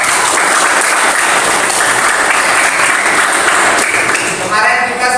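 Dense, steady clapping from a classroom of students during an Indonesian-language lesson on review texts, filling the whole stretch at close range and fading slightly near the end.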